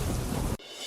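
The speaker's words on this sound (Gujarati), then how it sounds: "વહેલી સવારથી હળવાથી મધ્યમ ઝાપટા બાદ મેઘરાજા મન મૂકીને વરસ્યા" Heavy rain pouring down in Gir Somnath, a dense steady hiss with low rumbling roar that cuts off abruptly partway through, leaving a quieter wash of rain.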